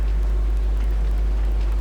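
Steady rain in the GTA 5 video game falls as a constant, even hiss with no pauses, heard alone over a strong low hum and with no speech.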